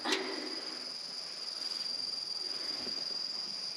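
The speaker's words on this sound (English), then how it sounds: "Oh wow, there's one of those crickets." A cricket chirps in a steady, high, continuous trill against a quiet background, close and clear.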